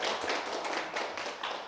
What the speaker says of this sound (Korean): 또 박수까지 쳐주니까 미안하네